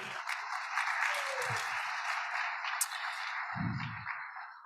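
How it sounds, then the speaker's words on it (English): Community day audience applauding steadily throughout, a dense even patter of clapping with a couple of brief low voices or thumps mixed in. "So why don't we give that a round of applause too?"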